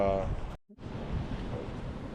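Surf and rough waves churning between the two inlets near Wisconsin Point lighthouse, a steady broad wash with wind buffeting the microphone, briefly cutting out before resuming, with a faint voice at the start.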